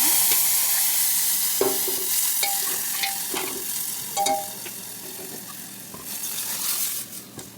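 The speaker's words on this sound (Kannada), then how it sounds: "ಒಂದು ಸ್ವಲ್ಪ ಜೀರಿಗೆ ಎಣ್ಣೆ ಕಾದ್ಮೇಲೆ ಒಂದು ಸ್ವಲ್ಪ ಸಾಸಿವೆ ಒಂದು ಜಜ್ಜಿ ಇಟ್ಕೊಂಡಿರೋ ಬೆಳ್ಳುಳ್ಳಿ ಹಾಗೆ ಒಂದು ಸ್ವಲ್ಪ ಕರಿಬೇವು ಒಗ್ಗರಣೆ ಸಾರಕ್ಕೆ" Cumin, mustard seeds, crushed garlic and curry leaves tempering in hot oil for a lentil sambar, a steady broadband sizzle with scattered crackles and pops, close and continuous, with no talking.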